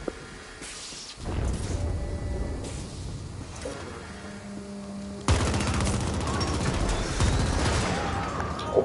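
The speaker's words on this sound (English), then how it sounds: "Why would you run into my gunfire?" Loud, sustained gunfire from the video game The Ascent, dense automatic bursts and booming shots filling the whole stretch, growing heavier and more intense about halfway through, with no talk over it.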